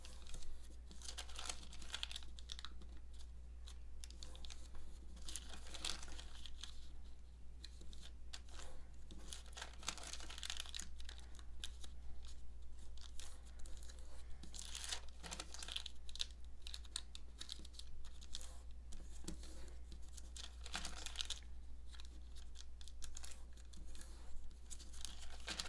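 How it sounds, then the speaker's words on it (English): Patty paper folded quickly by hand makes faint, repeated crisp rustles and creases in a continuous busy patter over a steady low hum, with no speech. "I found that if I hold the back paper with my fingers, I can actually fold it pretty quickly."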